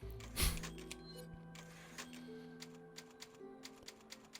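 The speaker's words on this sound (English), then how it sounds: "Typewriter. What are you doing? Typing up your manifesto?" Typewriter save sound from the video game Resident Evil 4: a burst of clacking keys up front, then a steady run of soft, evenly spaced taps over a low background hum.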